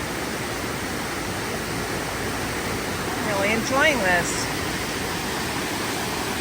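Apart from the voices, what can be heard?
waterfall near Rollo Falls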